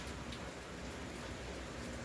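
Steady rain falling outdoors on a rainy day, an even, constant hiss at moderate level with no distinct drops standing out.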